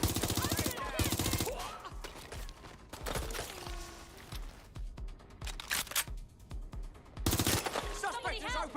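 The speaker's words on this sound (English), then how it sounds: "Suspect has opened fire!" Gunfire in the Watch Dogs: Legion game, with repeated loud rapid bursts and single shots across the clip and brief quieter gaps between volleys.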